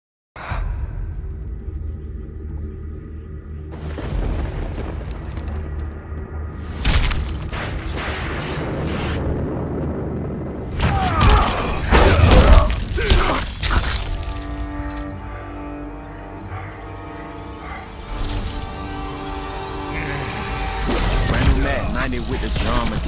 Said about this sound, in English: I'll be playing the MK11 trailer